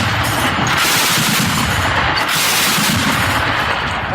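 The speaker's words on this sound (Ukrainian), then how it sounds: "десь у Запорізькій області обслуга легких гармат ЗСУ відпрацьовує" Light guns of a Ukrainian army crew fire at enemy drones somewhere in the Zaporizhzhia region, producing dense, continuous loud gunfire and booms with no pauses and no talk.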